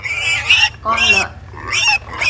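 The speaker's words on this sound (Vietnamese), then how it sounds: "con lợn." A pig gives three short squealing grunts in quick succession, close and fairly loud.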